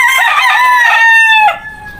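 A rooster crows once, close and loud, in a long drawn-out call that tapers off at the end, with no talk over it.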